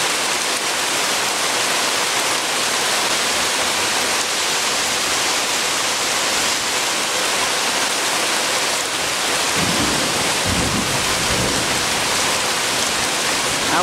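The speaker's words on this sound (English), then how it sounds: "Our afternoon rain was a little bit late getting here," Steady afternoon rain falls heavily and continuously outdoors, a dense hiss close by with a slight lower rumble appearing near the end.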